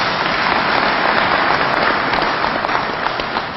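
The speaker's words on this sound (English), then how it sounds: "Shall we give a hand clap for that?" A large audience claps at a Mount Kenya University graduation ceremony, a dense, continuous wash of applause that holds steady for a few seconds.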